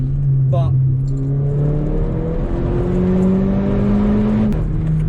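A four-cylinder Mercedes CLA45 AMG engine revs up steadily in pitch, loud and close with a droning whine, shifting and climbing again while a voice briefly cuts in.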